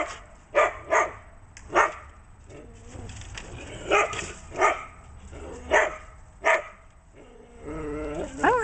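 A dog barks in short, sharp bursts, about eight spaced barks over several seconds, close by, ending with whimpering and growly vocal noises.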